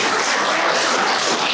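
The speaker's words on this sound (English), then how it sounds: "So everyone give a big round of applause to Chief." Audience applause for the Chief at a Cheyenne storytelling gathering in Elk City, Oklahoma: dense, steady clapping from a crowd, loud and continuous throughout with no voices over it.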